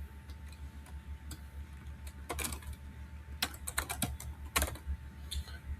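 Keys clatter on a computer keyboard as text goes into a web form, with irregular clicks and brief quick runs of keystrokes close by over a low steady hum, and nobody talks.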